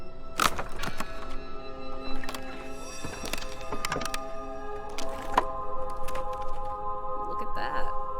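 Flimsy wooden boards crack and splinter in the video game Draugen, several sharp snapping cracks spread across the stretch over a sustained tonal background drone.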